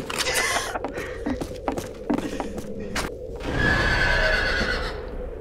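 A horse whinnies loudly amid clip-clopping hooves and thuds in the game Fistful of Frags, with a longer neigh near the end; game-like ambience, no talk.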